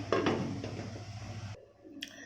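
A lid is set down on a cooking pot of channa masala: a metallic clatter near the start over a steady kitchen hum, which then cuts away, leaving quiet and one small click near the end.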